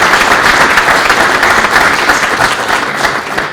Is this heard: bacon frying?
no